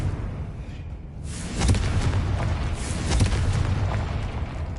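A fiery Confringo spell explodes in the video game Hogwarts Legacy, a sudden booming blast that rolls into a sustained, rumbling roar and lingering crackle.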